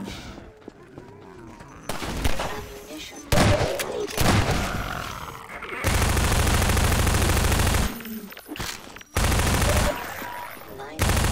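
Bursts of rapid rifle fire from the video game Half-Life 2 come in loud sustained volleys separated by short gaps and scattered single shots, with game voices heard in places.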